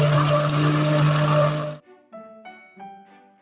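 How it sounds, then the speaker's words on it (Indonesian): Peanuts grind in an electric blender, a loud steady motor whir for nearly two seconds that cuts off abruptly, followed by a few faint clinks and thuds. "Sekarang kacang ini akan saya blender sampai halus."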